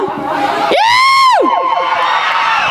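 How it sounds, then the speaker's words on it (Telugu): A live comedy show audience cheers and whoops loudly. A rising, then falling whistle-like whoop rides over a dense roar of crowd noise. "ఏమి జనం ఏమి జనం"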